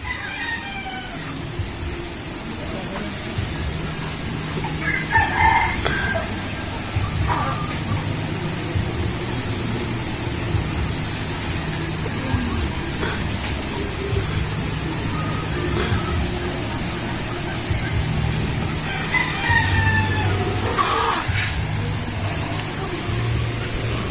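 Rhode Island chickens penned in a range area cluck and crow intermittently in short bursts at moderate distance, over a low steady background hum.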